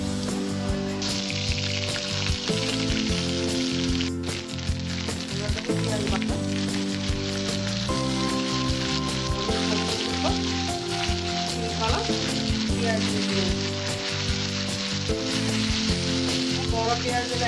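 Garlic and ginger paste fries in hot oil for a Bengali-style egg masala curry, giving a steady, close sizzle that runs throughout with tonal background music layered beneath and no talking.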